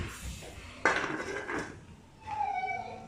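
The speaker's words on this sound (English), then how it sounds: "We'll close off our pot" Lid set down on a cooking pot of simmering chilli paste, a sharp metallic clink followed by a brief rattling settle, faint and close.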